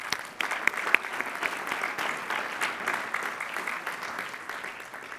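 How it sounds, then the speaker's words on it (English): A large crowd at a university spring commencement applauds doctoral graduates, steady hall-filling clapping with a few sharp claps standing out, moderately distant and sustained throughout. "applause."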